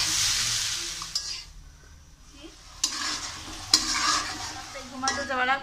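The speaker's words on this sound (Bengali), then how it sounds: "এইগুলো অনবরত নেড়ে আমি এটা ভাজবো" Okra is stirred as it fries in a pan, giving a close crackling sizzle broken by scraping strokes and clatter that swell and fade in uneven bursts.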